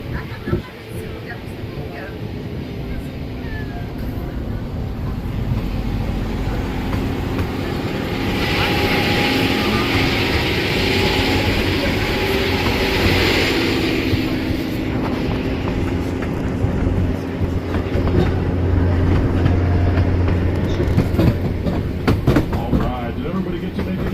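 A Pikes Peak cog railway train passes by with a sustained, broad mechanical roar that swells in the middle and then eases, heard from aboard another train, with people talking throughout.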